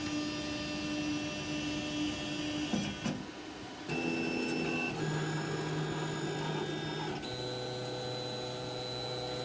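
A 3D printer works on a heated bed coated with Aqua Net hairspray, its stepper motors whining in steady tonal drones that shift pitch every few seconds as moves change, with a constant fan hum and no talk.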